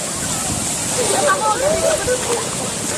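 Strong waves churn and slosh in a natural rock depth pool in Pangasinan, a continuous rushing wash of water close by, with voices calling out and an excited exclamation over the surging noise.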